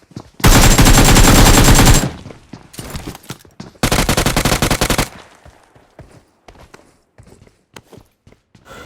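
Automatic gunfire from a BGMI battle royale match at a military base, with two long, loud sustained bursts of rapid shots separated by scattered single shots and footsteps, then quieter intermittent shots and movement.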